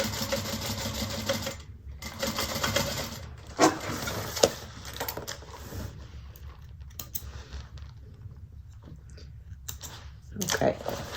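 A sewing machine runs in bursts while top stitching a bag panel, its steady whir starting and stopping with pauses between, close up, with a voice talking in between.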